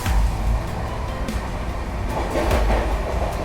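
The Mumbai Tejas Rajdhani Express runs flat out at about 130 through Vapi without stopping, heard from inside a first AC coupe as a steady, loud roar of wheels and wind with faint clacking rail joints underneath.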